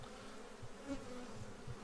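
Honey bees buzz around an open beehive frame, a soft, continuous droning hum with faint individual buzzes rising and falling close by, and no talk over it.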